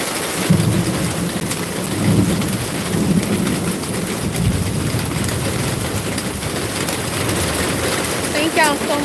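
Steady rain pours down across a garden while thunder rolls low and heavy, with dense constant hiss of drops on surfaces and deeper rumbles swelling near the start and middle.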